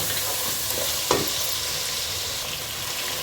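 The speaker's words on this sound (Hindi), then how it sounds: "पानी खुश्क होने तक इसको फ्राई करेंगे।" Chicken frying in a pan with whole spices such as cinnamon, black and green cardamom and cloves, a steady close sizzle with one sharp stirring scrape partway through.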